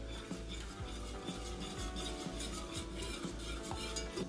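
Spoon stirring a potato and cream mixture after evaporated milk is poured in, for gratin-style creamed potatoes; steady soft scraping and clinking against the pot, close and continuous with no talking.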